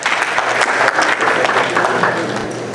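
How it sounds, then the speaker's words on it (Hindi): Loud, enthusiastic applause from the audience at a Hindi poetry gathering in New York, welcoming a New York state senator: dense clapping throughout, with faint crowd voices mixed in and a slight fade toward the end. "तो उनके लिए एक जोरदार ताली हो जाए प्लीज।"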